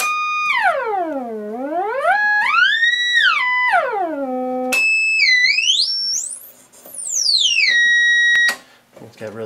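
Swept electronic test tones from a frequency generator, gliding up and down through the range in smooth arcs and stepped jumps, with bright overtones, loud and continuous, ending in a high steady tone that cuts off abruptly.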